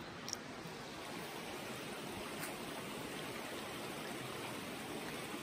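A river stream flows over sand near a lake, giving a steady, even wash of water that runs close by, alone and unbroken, at moderate loudness.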